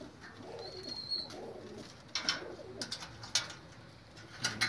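Soft, rolling pigeon coos repeat several times at a low, quiet level, with faint clicks and rustles in the background.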